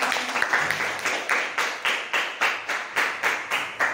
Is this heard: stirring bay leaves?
no